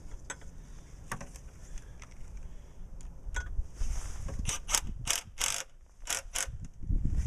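A ratchet tightens the screw-on oil filter housing on a BMW during an oil change, giving a run of quick, close clicking bursts that grow denser toward the end, with low background handling noise.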